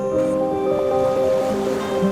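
Sea waves wash onto a beach at dusk, a continuous soft surf under a layer of steady tonal sound, moderately quiet and even throughout.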